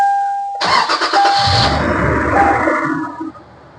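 A car engine cranks and catches after a brief chime, then runs loudly for a few seconds before settling down.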